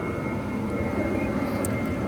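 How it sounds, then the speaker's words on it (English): An airplane passes overhead outdoors, a steady broad engine drone that holds at an even, moderate level throughout, with no talking. "And don't mind the airplane passing above."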